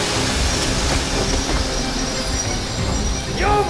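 A train rolls steadily along in the post-apocalyptic shooter Metro Exodus, a dense continuous rumble with faint wheel clatter and a brief rising metallic squeal near the end.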